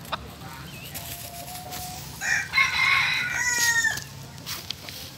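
A rooster crows loud and near, with clucking and other fowl calls around it on a chicken farm where birds are raised for fattening, heard against steady low background noise.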